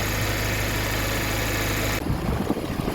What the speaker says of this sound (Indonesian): ini nyala kipas yang kedua pada mobil saya ini